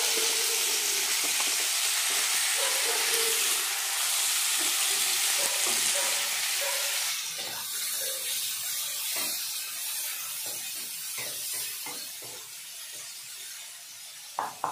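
Tomatoes go into a pan of frying ginger, with a loud, bright sizzle that settles slightly quieter after a few seconds, broken by scattered stirring clinks and scrapes close up.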